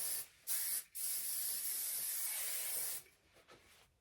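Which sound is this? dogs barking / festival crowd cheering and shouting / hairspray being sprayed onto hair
hairspray being sprayed onto hair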